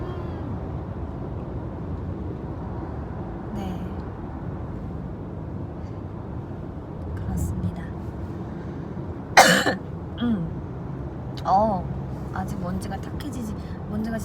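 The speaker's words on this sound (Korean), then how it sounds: "되게 기침이 나네요" A person coughs a few short, sharp times during a casual indoor livestream, with talking before and after the coughs.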